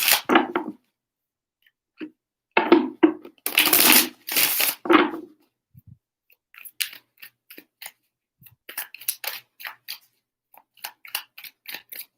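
Tarot cards being shuffled by hand in several separate bursts of riffling and sliding, with quiet gaps and lighter, scattered card flicks toward the end.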